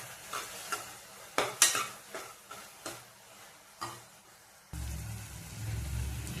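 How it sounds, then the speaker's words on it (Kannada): Potatoes frying in hot oil for an aloo palya, with a steady sizzle and a run of sharp clinks and scrapes from a spoon stirring against the pan. Near and clear, no talking, and the sizzle swells louder toward the end. "ಇದು ಎಣ್ಣೆಲಿ ಚೆನ್ನಾಗಿ ಫ್ರೈ ಮಾಡ್ಕೋಬೇಕು."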